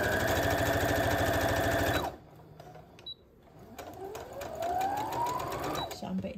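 A sewing machine stitching quilt blocks runs loud and fast with a rhythmic mechanical chatter for about two seconds, then stops, leaving quieter handling and rustling sounds.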